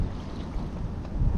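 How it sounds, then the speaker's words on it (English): Wind gusts across an open fishing lake at Barston Lakes, a continuous low buffeting rumble close to the microphone, swelling slightly toward the end. "see how windy it is, it's not going to be fun on that pole"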